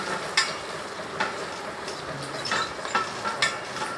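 A spoon scrapes and stirs softened, cooked onions and tomatoes in a pot for chicken curry. The strokes come as a steady series of close scraping sweeps over a faint sizzle, with no talking.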